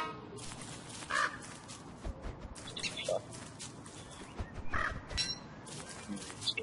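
Crow-like caws from a bird in the game Don't Starve sound several times at moderate volume over soft game ambience, with a voice talking at points.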